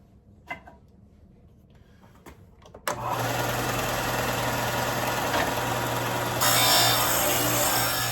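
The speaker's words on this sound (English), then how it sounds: "I'm going to use a disc sander with a miter gauge in order to get this squared up." A disc sander with a miter gauge squares the end of a wooden pen blank, its motor starting after a few light taps and then running loud and steady, the pitch rising briefly near the end as the blank presses against the disc.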